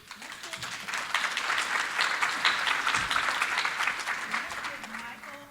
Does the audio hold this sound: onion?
no